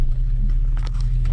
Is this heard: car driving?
yes